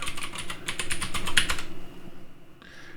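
Password typed on a computer keyboard: a quick, close burst of key clicks for about a second and a half, then quiet with a faint final tap.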